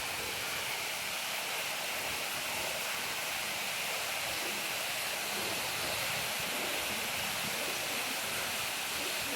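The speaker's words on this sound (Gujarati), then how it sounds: "કૂવામાં પાણી આવે છે" Water pours steadily into a farm well, a dense, even rushing roar that holds constant throughout with no pauses or voices.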